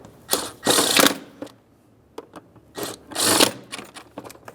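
A ratchet tightens 11mm mounting nuts on the windshield washer reservoir of a 2003-2011 Mercury Grand Marquis, with quick clicking bursts in two main runs separated by pauses and scattered single clicks, close up.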